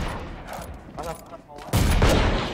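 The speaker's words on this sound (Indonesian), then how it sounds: "Anjing kau nembak apa Dion?" Gunfire in a fast-paced multiplayer shooter video game, a loud burst of rapid shots and blasts erupting near the end after quieter moments of in-game sounds, with excited players talking over it.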